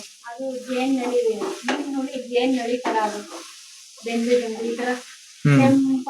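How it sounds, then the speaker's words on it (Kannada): Onions roasting in a pan for a home-cooked fish sambar give a steady close sizzle and frying crackle, with voices talking over it throughout. "ಅಲ್ಲಿ ಆನಿಯನ್ ರೋಸ್ಟ್ ಆಗಿದೆ."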